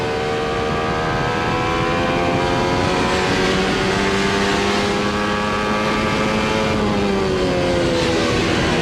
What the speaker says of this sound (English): Such a view that you see off the front of Rahal's car.